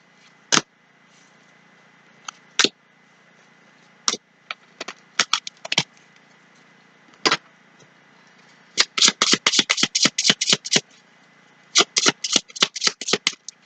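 Tarot cards shuffled in quick bursts of crisp riffling and snapping, scattered single flicks early on, then dense rapid runs of card slaps, close and clear over a faint steady hum.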